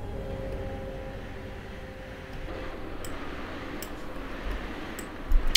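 A class 147 train rushes past on the neighbouring track in Train Simulator 2022, heard from the cab of a Stadler EuroDual BR 159 with the wipers running: a steady low rumble with humming tones, then a few sharp clicks near the end.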